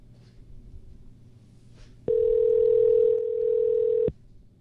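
A telephone line rings out on a call. It gives one steady electronic tone that holds for about two seconds and then cuts off abruptly. Faint room noise sits underneath, and no one is talking.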